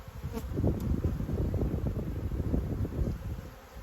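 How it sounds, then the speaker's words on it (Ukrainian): A handful of bees from a swarm that escaped its hive buzz steadily near the microphone, a dense continuous hum with some wind rumble, carrying through the whole stretch without talk. "Жменя бджіл."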